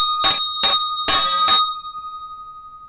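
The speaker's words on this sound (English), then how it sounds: "And we going to ring the bell." A bell rings in four sharp strikes, two quick ones then a pair, loud and close, with a clear metallic tone lingering and fading after the last hit.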